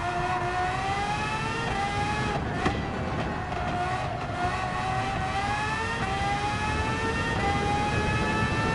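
A race car engine in Gran Turismo 7 during a Nations Cup event, an X2019 car, climbing in pitch as it accelerates through the gears with brief dips at shifts, loud and continuous, alone without talk.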